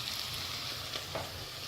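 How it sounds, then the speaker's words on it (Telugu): Onions fry gently in a pan for a mixed vegetable curry, a soft, steady sizzle with a couple of faint stirring scrapes, brief and fairly quiet. "సో ఇప్పుడు ఉల్లిపాయలు ఇలా కొంచెం ఫ్రై అయిపోయిన తర్వాత"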